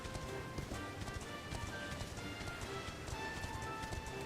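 Horse hooves clip-clop steadily in Dragon Quest XI, a quick, even rhythm of moderate loudness over the game's continuous music and ambience, with no talking.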